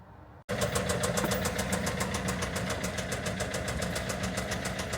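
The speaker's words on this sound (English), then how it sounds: "there's the engine running, sounding a little bit worse for wear" A van engine in poor condition starts and settles into a rough idle, a loud, steady mid-pitched chug with a regular knocking pulse continuing alone throughout.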